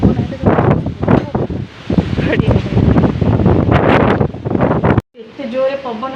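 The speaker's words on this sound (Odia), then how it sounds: "ଏତେ ଜୋରରେ ପବନ ହେଉଛି" Strong gusting wind batters a home during a storm, a dense broadband roar that keeps swelling and falling over about five seconds before cutting off abruptly, with a brief quieter stretch of different sound at the end.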